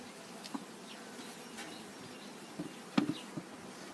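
Honeybees buzz faintly while mating nucs are being settled in an apiary, with the queen held in hand. A low, steady hum runs throughout, broken by a few brief, slightly louder bursts near the end. No one speaks.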